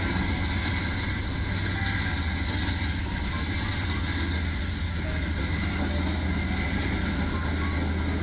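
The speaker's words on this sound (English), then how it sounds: "this train that runs literally feet from the motel." A train passes a few feet from a motel, a heavy, steady rumble close by, low and continuous throughout, with a constant droning engine tone and no voices.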